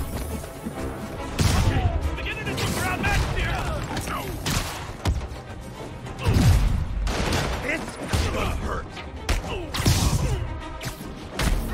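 Enemy gunfire in Spider-Man Remastered, bursts of shots and impacts mixed with crashes and thuds during a street fight, with game characters shouting over the action.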